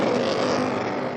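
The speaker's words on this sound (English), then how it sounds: "The Whelen NASCAR, 335 brake horsepower per tonne from that V8 engine" A Whelen NASCAR rear-wheel-drive V8 race car roars loudly and steadily close by, a continuous heavy engine drone at a racing event.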